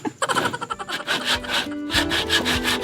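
A hand saw cuts through old wood while a goat house is being built, with a steady rasping back-and-forth of close, loud strokes and no talk over it.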